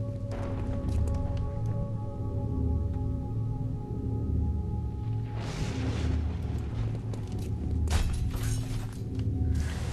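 Glass shattering in the XCOM: Enemy Unknown video game as an enemy leaps through a window, a bright crashing burst over a droning game soundtrack, with a second burst of debris shortly after.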